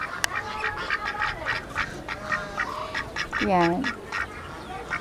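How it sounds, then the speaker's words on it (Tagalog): Pekin ducks on a farm give a few quacks, including one clear nearby call, beneath a person talking outdoors. "Yung isang pecking duck namin."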